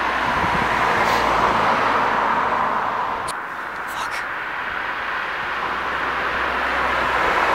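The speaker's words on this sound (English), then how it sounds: "Cars again." Cars pass by on an outdoor road in a steady broad roar of traffic that swells, dips briefly around the middle, then builds again, heard alone.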